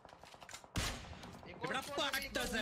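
Rapid gunfire from PUBG Mobile, a burst of close shots over a steady stretch of game action, with a voice talking over it.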